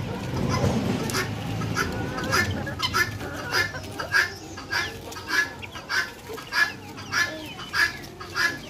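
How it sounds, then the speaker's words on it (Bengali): A pet partridge calls repeatedly among native chickens feeding on vine leaves, with sharp, evenly spaced calls ringing out at a steady rhythm over soft clucking and yard noise. "আমার তিতিরটা অনেক সুন্দর ডাকে।"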